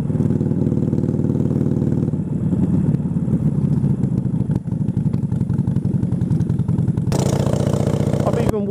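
A chopper motorcycle engine idles close by with a steady, thumping lope, its tone shifting slightly near the end while it keeps running the whole time.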